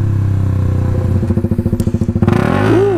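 KTM RC125 motorcycle with an unbaffled Danmoto XG-1 performance exhaust, loud and close, a raspy engine note that breaks into rapid popping bursts before rising again on the throttle.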